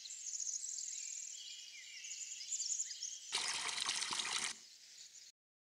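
Strawberries being watered in Farming Simulator 22 in a farm garden: a steady hiss of running water over soft insect and bird ambience, swelling into a louder, rougher spray for about a second before stopping abruptly.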